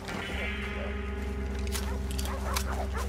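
Dogs bark in the Red Dead Redemption 2 game, set at a cursed elder village, with a few short yelps rising over a steady droning background hum; no one speaks.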